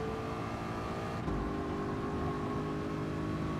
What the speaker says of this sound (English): I'll rev it out, okay.